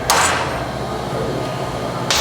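Hammer whacking a tack-welded metal part on a WRX kit, two sharp metallic hits, one at the start and one at the end, framing a steady background hum in a workshop.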